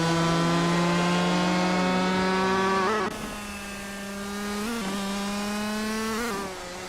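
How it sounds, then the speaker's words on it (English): Racing cars at Trazado International de Puebla, including a 2018 Lamborghini Aventador SVJ, droning with loud sustained engine tones that shift pitch as gears change, several overlapping engines, no talk. "The cars are starting now at the Trazado International de Puebla do"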